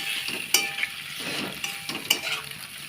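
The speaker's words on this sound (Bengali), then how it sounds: "গ্যাসটা লো ফ্লেমে রেখে আস্তে আস্তে পাস্তাগুলোর সাথে মশলাটা মিক্স করে নিচ্ছি।" Pasta mixed with spices in a pan over a low flame, a spoon scraping and tapping the pan in slow strokes above a gentle continuous sizzle, close by with no voices.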